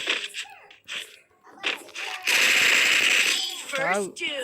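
Sniper gunfire in the mobile game Free Fire: a few sharp shots in the first seconds, then a long loud burst of sustained noise, with excited voices talking and exclaiming over it.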